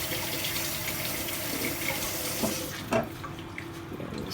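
Water runs steadily from a tap as strawberries are rinsed, a continuous close splashing rush with a few brief clunks and shifts in the flow toward the end.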